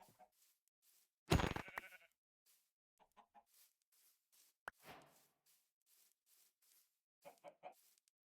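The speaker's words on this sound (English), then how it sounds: "Sorry, sheep." A sheep bleats in the Minecraft video game, one loud, close bleat early on. Quieter clucks from chickens and small game sounds follow, scattered across the rest.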